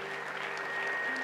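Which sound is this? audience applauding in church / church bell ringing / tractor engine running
audience applauding in church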